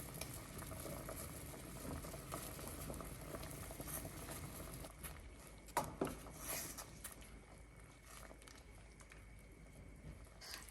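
Chicken soup bubbles and burbles at a steady rolling boil in a pot, faint and close, with a couple of small clinks partway through.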